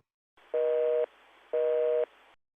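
Outgoing call tone from a Microsoft Teams call routed through a Yeastar P-Series PBX: two even, steady electronic beeps with a short gap between them, clean and alone against silence.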